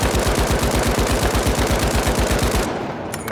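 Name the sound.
Lewis gun firing in the video game The Finals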